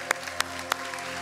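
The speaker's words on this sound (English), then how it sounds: "Let's give him a big hand clap." In a church on Easter Sunday, three sharp, evenly spaced handclaps stand out over a quiet background hum in the sanctuary.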